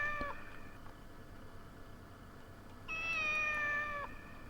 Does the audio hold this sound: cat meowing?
yes